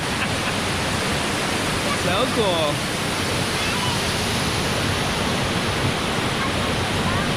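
A winter waterfall in the Columbia River Gorge roars as a loud, constant wash of white noise throughout, with a child's and adults' voices speaking briefly over it.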